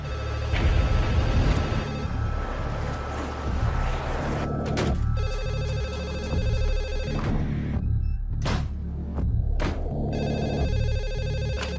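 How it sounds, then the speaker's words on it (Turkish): A telephone rings in repeated bursts with short gaps between, loud and close, over a dark, tense film soundtrack with low rumbling music. "Hadi aç şu telefonu."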